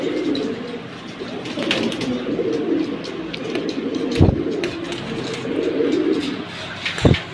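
Military pigeons in a cage give soft, throaty coos in repeated rolling phrases, close and moderately loud, with a couple of sharp knocks or wing flaps between calls.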